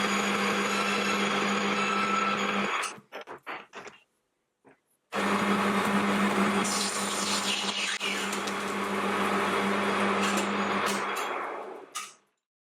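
A lathe hums loudly while turning brass for a spring winder, then comes a few seconds of clicks and near quiet, and the machine runs again with cutting noise before it winds down.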